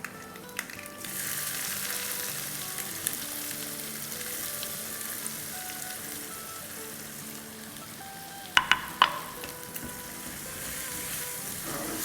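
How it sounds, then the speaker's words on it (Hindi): Chopped onion, sliced green chillies and garlic sauté in hot oil in a pan, giving a continuous close sizzle with a few sharp clatters of a spoon or lid partway through, and no talk. "बस इसे 1 मिनट के आसपास सौटे करेंगे और इसमें डालेंगे आधा कप ऑमलेट कट अनियन, 2 हरी मिर्चें जिसकी स्लाइस कर दी है और 2 टेबलस्पून लहसुन।"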